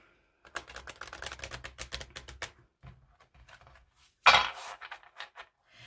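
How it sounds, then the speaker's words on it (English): Oracle cards are riffled and shuffled together in quick rapid flutters and soft slaps, close and fairly quiet, ending in one sharper snap of the deck. "So again, it's about shuffling them together."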